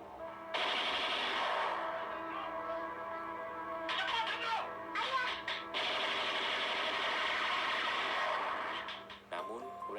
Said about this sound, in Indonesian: pasukan Cakrawirawa langsung memberondong kamar mereka dengan sejumlah tembakan beruntun